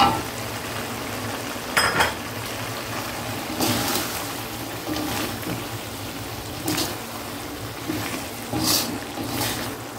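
Chicken liver and gizzards fry with a steady close sizzle while a utensil stirs them in the pan, scraping in a few louder bursts about every couple of seconds.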